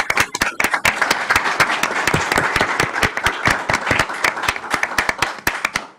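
A town council meeting audience gives a round of applause: loud, close, sharp handclaps from a modest group, steady and dense for several seconds before thinning out at the end.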